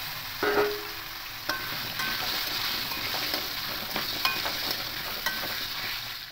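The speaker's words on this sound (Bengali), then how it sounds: "এবার এই তেলে এবার আলুগুলোকে ভেজে নেব" Potato pieces fry in hot oil with a touch of turmeric, giving a steady close sizzle broken by occasional stirring clatter from the pan.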